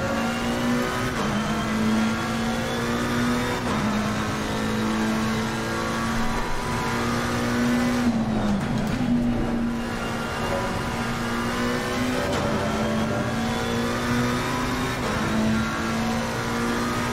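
A McLaren 720S race car engine at Imola in Assetto Corsa Competizione, a loud steady drone with shifting pitch as it accelerates and upshifts, with a brief dip around one gear change.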